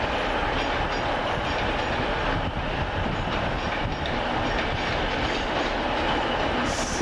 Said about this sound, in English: we got on the right the 1847 Virgin Trains West Coast service from London Euston through to Glasgow Central